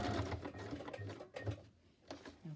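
Sewing machine stitching around fabric pieces of an envelope for a journal, a steady mechanical whir broken by brief pauses, close and fairly quiet.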